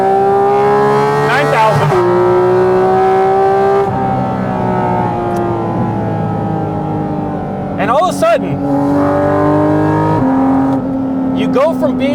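A Porsche Cayman GT4 RS engine revs high and loud through PDK gearshifts, pitch climbing and then dropping sharply at each shift, while someone talks briefly over it.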